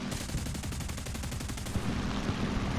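Rapid aircraft machine-gun fire rattles in a fast, steady stream for about two seconds in the air-combat game War Thunder, loud over a constant engine drone that continues after the burst ends.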